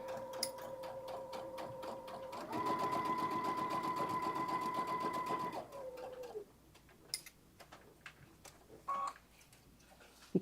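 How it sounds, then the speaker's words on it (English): A sewing machine stitches one continuous circular seam on a lined garment, running in a steady, rapid whirring burst of about three seconds before slowing, followed by scattered light clicks and handling noises. "So as you're sewing, you have to keep moving your seam because it's all one continuous piece."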